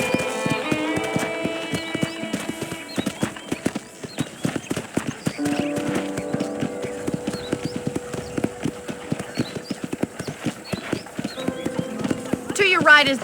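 Horse hooves clip-clop in a brisk, regular rhythm on a ranch in the Red Dead Redemption video game. Someone talks over them, and music plays underneath.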